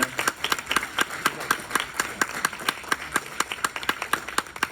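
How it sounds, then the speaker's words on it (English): Rhythmic clapping from a small audience at an entrepreneurship pitch competition, sharp distinct claps in a steady, fairly quick pulse for about five seconds, with no voices over it. "one more round of applause"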